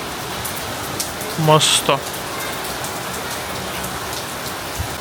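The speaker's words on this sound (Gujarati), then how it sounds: "અહીંયા કંઈક વધારે જ વરસાદ આવી રહ્યો છે" Heavy monsoon rain pours down steadily in Ahmedabad, a dense, even hiss, with a brief spoken word cutting in near the middle.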